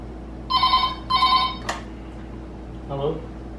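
Two bursts of a telephone ringing tone, each about half a second and close together. A short click follows, then a brief voice answering. The call is being placed to order pizza from a hotel room.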